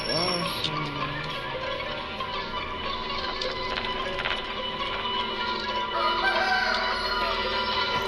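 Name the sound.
chickens clucking and crowing in the Granny video game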